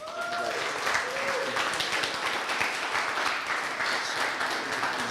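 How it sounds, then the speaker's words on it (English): A forum audience gives a guest steady, full applause, dense clapping that carries on throughout, with a few voices and whoops rising faintly in the first moments. "So let me please give Jonathan Jelks a round of applause"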